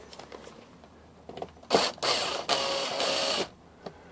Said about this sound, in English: Okay, so I'm going to pull those screws.